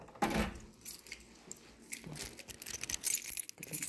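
A bunch of house keys jingles and clinks in a dark home during a power outage, a close, irregular metallic rattling that comes in small bursts as someone fumbles through them.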